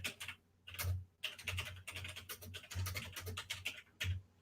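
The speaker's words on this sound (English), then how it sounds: "Yeah, typing. I type very fast on it." Fast typing on a computer keyboard, rapid bursts of close, crisp key clicks separated by brief pauses.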